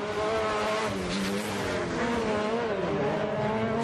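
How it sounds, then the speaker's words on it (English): 2-litre race cars with over 300 horsepower race around a track during an X Games event in Austin, a dense, continuous engine roar of several cars together, loud and steady with shifting pitch as they pass. "the 2-litre cars putting their 300-plus horsepower down onto the ground"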